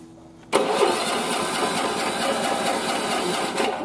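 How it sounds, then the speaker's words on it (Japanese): A rice-harvesting machine's engine catches with a sudden loud burst and settles into a steady, close mechanical running roar that holds for several seconds. "これは踏まないとエンジンかかんないね。"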